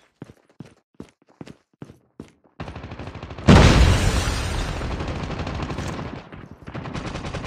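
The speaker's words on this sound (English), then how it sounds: "Grenade out!" A grenade detonates in the mobile shooter Call of Duty Mobile, played on an iPhone: several sharp, spaced gunshots come first, then a loud, close blast with a long, rumbling tail while rapid gunfire continues underneath.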